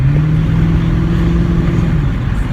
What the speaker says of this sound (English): I just hit the gas a little bit so he can enjoy it.